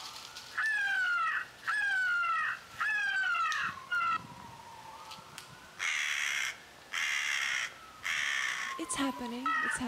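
Live crow giving a run of loud, harsh caws in quick bursts, close by, followed by a few short bright pulses and a faint voice near the end.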